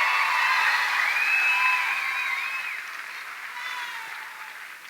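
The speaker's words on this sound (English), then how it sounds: "Can we give another huge round of applause for Rich Kadur?" Applause fills a school welcome-back assembly, a dense and steady crowd clapping with a few whoops, then slowly fading.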